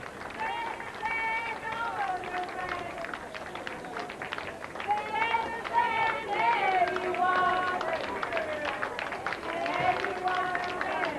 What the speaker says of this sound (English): At Sedgefield, in the Labour Club, there's applause for Tony Blair and a bit of singing.